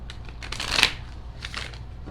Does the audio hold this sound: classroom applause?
no